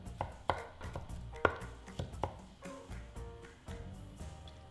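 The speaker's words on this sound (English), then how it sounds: "We are going to chop everything together." A knife chopping soft broccoli and garlic together on a cutting board, irregular thuds and sharp taps close by, several strong strikes early and softer ones following.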